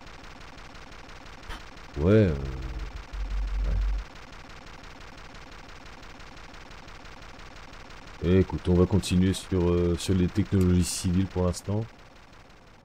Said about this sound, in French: Un petit bug son là.